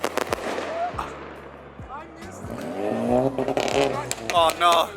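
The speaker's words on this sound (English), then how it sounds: "now someone's two-stepping" Sharp, rapid exhaust pops and bangs crackle from a car using two-step launch control on a street. The bursts come loud and close, mixed with engine noise, and people talk and shout over them.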